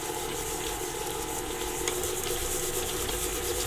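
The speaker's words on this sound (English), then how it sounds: "just going to kind of gradually mix the sugar in with the butter here" Electric mixer creaming butter and sugar for eggless vegan chocolate chip cookie dough, a steady continuous whirring churn with a soft scraping texture throughout, close and even, with no talking.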